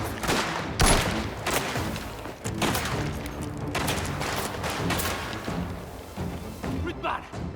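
Gunfire in the video game Mafia: The Old Country, with repeated sharp shots and bursts at uneven intervals over a background of game ambience.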